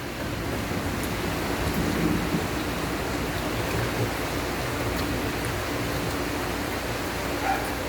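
Steady, dense hiss of rain falling continuously, broad and even throughout with no voices, like a shower pouring nearby.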